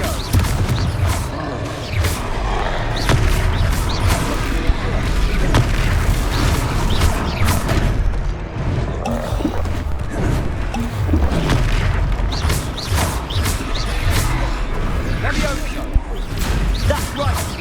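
Heavy magical blasts from the Confringo fire spell in the Hogwarts Legacy video game boom repeatedly through a combat scene in Hogsmeade, loud and continuous over game music, with voices heard in the mix.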